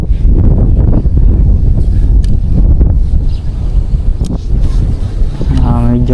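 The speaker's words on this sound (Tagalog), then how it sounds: "Medyo malakas ang hangin." Strong wind buffets the microphone in a constant loud roar on a fishing outing, with faint voices and boat-like noise underneath.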